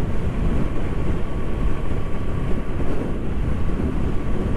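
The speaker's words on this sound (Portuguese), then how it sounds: "Aí é o vento, olha aí. Cada rajada de vento forte." Strong gusts of wind buffet the microphone on a dusty dirt road in the Pantanal, a steady loud roaring rumble throughout with no voices.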